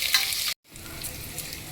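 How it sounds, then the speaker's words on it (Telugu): Chopped onion fries in hot oil for a South Indian sambar tempering, giving a close, steady sizzle with faint stirring. The sound cuts out for a moment and then resumes, with no talking. "ఇలా ఉల్లిపాయ అంతా లైట్గా గోల్డ్ కలర్ వచ్చే వరకు వేపుకోవాలి."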